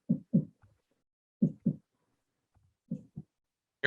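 Heartbeat sound effect in a tabletop role-playing game session: paired low thumps repeating in a slow lub-dub rhythm, three double beats with short gaps, fairly quiet and alone, no talking over it.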